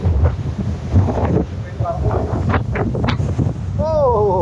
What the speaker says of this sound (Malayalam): കൊടും കാറ്റാണ്.